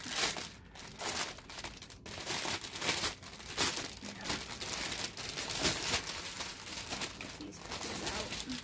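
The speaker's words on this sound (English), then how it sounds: "sorry about the noise of the plastic" Plastic packaging crinkles and rustles steadily up close, with sharp crackles and tearing-like bursts throughout.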